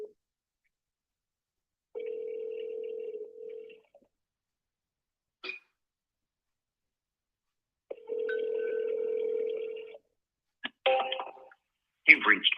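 A telephone call rings out through a handset, with two long ringback tones separated by a pause, followed by short electronic beeps and clicks, all clear against near silence.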